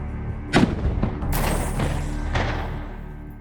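A sharp, heavy weapon blast at a military training exercise, followed by a booming rumble and a long echoing tail that rolls away into the distance.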